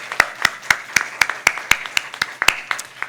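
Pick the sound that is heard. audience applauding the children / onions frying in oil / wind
audience applauding the children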